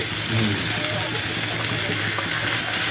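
Vegetables for shukto fry in a pan over low heat with a soft, steady sizzle, and a voice talks over the cooking.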